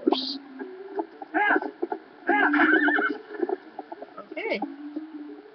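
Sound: horse neighing in a video game

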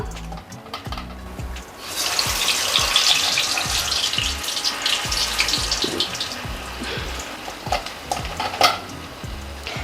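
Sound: vada frying in hot oil

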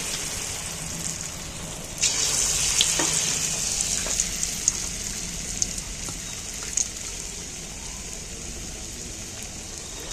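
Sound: batter frying in oil

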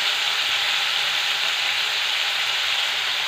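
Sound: tomatoes frying in a pan

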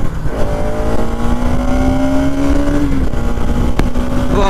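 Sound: Bajaj Pulsar NS200 motorcycle engine revving

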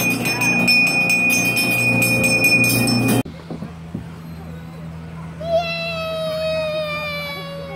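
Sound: child ringing a bell

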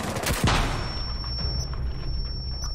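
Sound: sniper rifle gunshot in a video game

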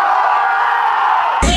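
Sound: crowd yelling and screaming in Wynwood, Miami

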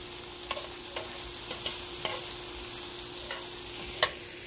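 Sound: frying food in olive oil

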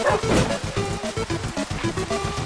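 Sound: dog barking in video game

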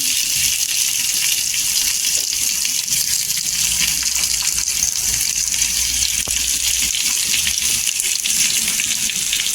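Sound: stuffed bitter gourd frying in oil on a pan

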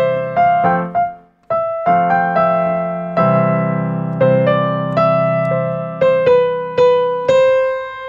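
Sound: third part of a melody

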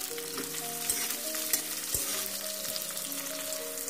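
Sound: stirring chopped capsicum frying in oil

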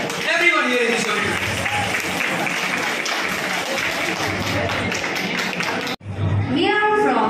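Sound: audience applause in a school event hall

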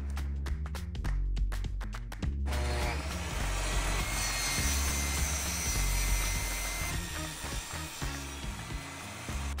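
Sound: power saw ripping wooden boards for a beehive

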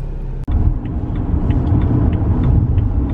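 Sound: BMW 335i (MHD Stage 2+) driving on the road

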